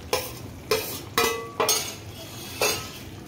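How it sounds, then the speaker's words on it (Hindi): Shallow-fried onions are scraped from a spoon into a pan of cooked tomatoes for malai pyaaz sabzi, with five distinct metallic taps and scrapes spaced unevenly, close and fairly loud. "अब हम इसमें ये सारे प्याज डालेंगे जो हमने शैलो फ्राई किए थे"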